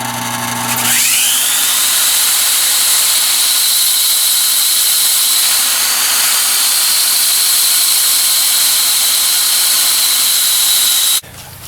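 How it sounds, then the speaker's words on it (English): A loud, steady whine with a high-pitched hiss from a flat power sanding disc rough-sanding a spalted maple segmented vase runs continuously after spinning up, then cuts off abruptly near the end. "I'm finishing the rough sanding now with this bigger flat disc"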